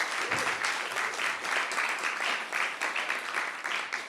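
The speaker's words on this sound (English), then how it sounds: "Give them applause" Steady, dense applause from an audience at a political party general assembly, moderately loud and continuous throughout, with no voice over it.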